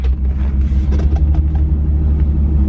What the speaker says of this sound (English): Let me roll my car back a little bit.